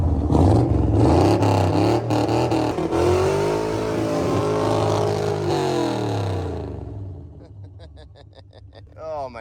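Car fitted with a swapped-in, low-kilometre 350 engine starts and revs hard, a loud, rising and falling engine roar that fades to idle, with voices talking over it.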